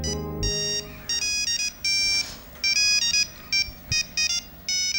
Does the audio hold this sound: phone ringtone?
yes